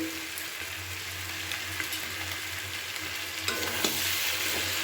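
Aubergines frying in oil with chili powder, a continuous dense sizzle close up with intermittent stirring scrapes that grow louder toward the end; no talking.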